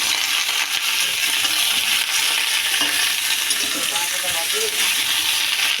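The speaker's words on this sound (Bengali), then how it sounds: "আলু আর পুঁই শাকের ডাঁটা ভাজা হচ্ছে।" Potatoes and Malabar spinach stems frying in a pan, a steady close sizzle and hiss with occasional light stirring scrapes, continuing without pause.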